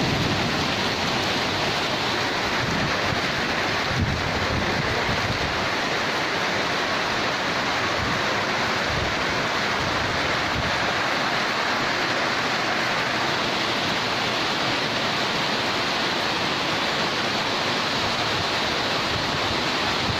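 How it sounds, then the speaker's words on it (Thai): Rain falls at a village in Surin, Thailand, as a dense, steady, even hiss that continues loud and unbroken throughout, with no voices. "ตอนนี้บรรยากาศฟ้าฝนตก"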